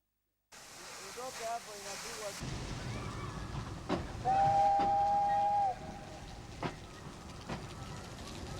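Steam locomotive Mount Gelai of Kenya Railways, a nearly 50-year-old classic engine, gets underway with a sustained steam whistle blast over a steady rumble of running gear and rail noise, plus short clanks and bursts.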